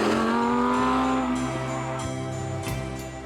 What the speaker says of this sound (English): I was in a Lamborghini in the Alps